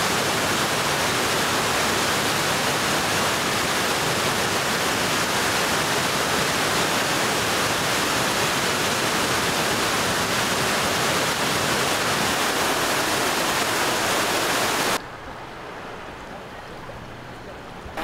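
Cheonjiyeon Waterfall on Jeju at night, a steady dense roar of falling water filling the whole soundscape, loud and constant, then dropping to a softer rush near the end.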